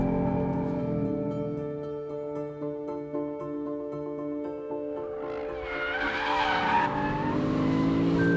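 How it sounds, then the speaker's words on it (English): A Lexus RC F on a track, its engine holding a strong, steady note before rising sharply near the end. Tyre squeal joins in at the finish. "The engine is a lovely thing, it sounds fantastic and it does rev out"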